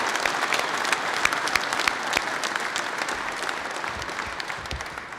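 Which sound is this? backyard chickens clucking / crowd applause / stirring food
crowd applause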